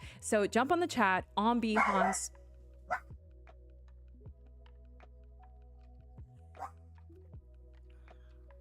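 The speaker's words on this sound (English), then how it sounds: "Okay, so that was my dog." A pet dog barks loudly indoors in a rapid string of close, sharp yelps lasting about two seconds, followed by a quiet room with a few faint knocks and a brief bit of talking.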